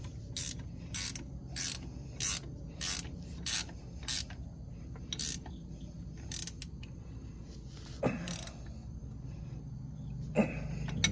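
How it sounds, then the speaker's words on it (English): A wrench tightens the 5/8 and 3/4 inch bolts on the clutch pedal shaft of a 1957 Farmall 450 Diesel tractor, producing a series of evenly spaced rasping ratchet strokes, then a pause and a couple of sharper clanks. "now we're going to go ahead and tighten these up"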